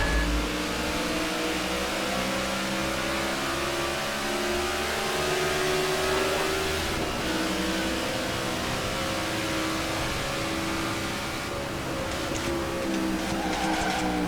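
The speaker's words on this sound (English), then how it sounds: "Clint Boyer, Kevin Harvick lead us down to green flag." A field of race cars roars away at the green flag at Pocono in a NASCAR racing game, with dense, loud engine drone and rising revs that hold steady throughout, plus a brief burst of tire noise near the end.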